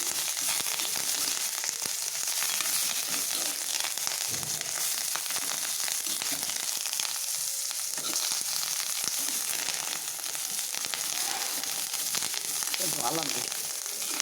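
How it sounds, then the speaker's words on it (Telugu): Coriander and mint leaves fry in a pan for a ridge gourd peel chutney, a steady close hiss of sizzling oil broken by scattered crackles and occasional stirring scrapes. "నెక్స్ట్ కొత్తిమీర, నెక్స్ట్ పుదీనాకు వేసుకోవాలి. వేసి మళ్ళీ వేగించాలి."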